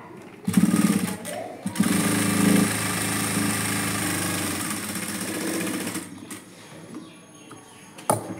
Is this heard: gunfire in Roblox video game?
no